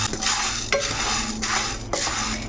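Green moong dal being fried and stirred in a pan, a steady dry rustling sizzle broken by a few sharp scrapes of the spoon against the metal.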